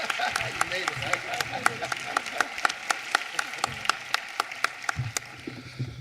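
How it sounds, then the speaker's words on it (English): Applause from a commencement audience, with scattered sharp claps standing out over a continuous background of clapping and murmuring voices. "Round of applause, please."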